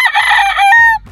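Gamecock rooster, a gray with straight comb, crowing once up close, a loud harmonic call held about a second and dropping at the end, with faint low rumble afterward.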